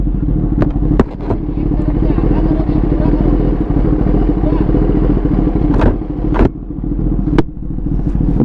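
The Kawasaki ZX10R Special Edition's engine runs with a loud, deep, steady rumble up close, broken by a few sharp clatters and brief surges.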